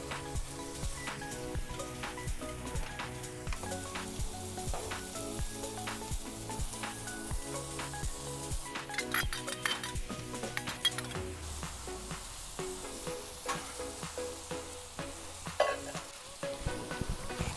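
Chicken sizzling steadily on a hot Blackstone griddle for cheesesteak subs, with metal spatula clinks and scraping over the continuous frying hiss.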